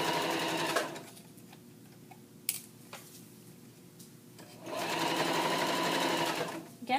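A sewing machine runs in two loud bursts as a knit cuff band is stitched on, stretched flat under the presser foot, with a quieter pause of soft handling and clicks between the runs.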